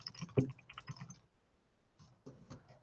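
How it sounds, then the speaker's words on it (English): Quick keyboard typing, a burst of soft clicks and taps for about a second, a pause, then a shorter run of keystrokes, close and fairly quiet with no talking. "I'll type it out."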